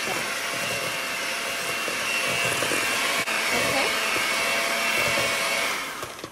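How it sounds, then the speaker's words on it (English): An electric mixer whirs through cookie dough after egg and vanilla go in, a loud, constant motor drone close by that tapers off near the end. "we're going to give it a quick mix after adding the egg and the vanilla"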